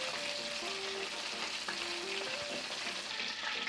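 Vegan catfish nuggets fry in a pan, giving a steady, soft hiss of sizzling oil with faint crackles and a few light scraping clinks, heard up close and alone.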